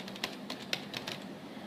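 Typing on a computer keyboard, a quick irregular run of soft key clicks and taps, faint and close, lasting under two seconds.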